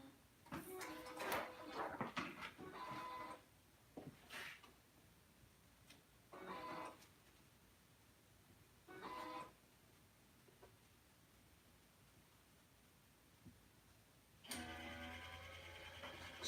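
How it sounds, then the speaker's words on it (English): A DTG shirt printer runs a head-cleaning cycle: intermittent bursts of mechanical whirring and clicking separated by quiet gaps, ending in a louder, steady motor hum. No one speaks. "sometimes we just have to do a head cleaning because, you know, I haven't used a printer in several days."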